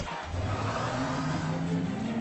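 A car engine revs and pulls away close by, a steady mid-pitched roar that holds and builds slightly, with no voices.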